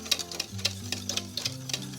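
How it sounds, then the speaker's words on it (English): Brisk whisking of a mixture into a white sauce base for enchiladas, with a steady rhythm of light metal taps against a bowl over a low background tone, and no talking. "Whisk that all together"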